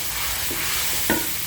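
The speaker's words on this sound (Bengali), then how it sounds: "আদা রসুন বাটা দিয়ে একটু নাড়িয়ে দিলাম।" Onions with ginger-garlic paste frying in a pan, a loud continuous sizzle with a couple of quick stirring scrapes, close up and without voices.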